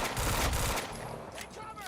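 Gunfire in Quantum Break, a burst of loud close shots at the start giving way to fainter scattered reports and clatter with some background voices.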